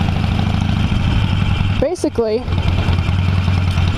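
A motorcycle engine runs in first gear with a steady, low, rumbling drone throughout, and someone speaks briefly over it partway through.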